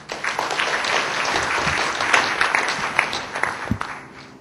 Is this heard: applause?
yes